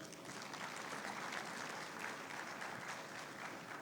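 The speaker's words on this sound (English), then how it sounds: "a round of applause would be great" Sustained audience applause at a bank book launch ceremony, a fairly faint but continuous wash of many hands clapping, with no speech over it.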